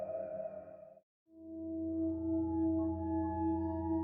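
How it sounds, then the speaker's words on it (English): A Japanese alert system warning tone plays as a loud electronic sound, breaks off in a short silence, then returns as a steady sustained chime-like drone that holds to the end. "Japanese Alert System."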